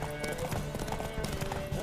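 A horse gallops in a race in The Witcher 3, its rapid hoofbeats drumming steadily close by, with game music and effects layered underneath.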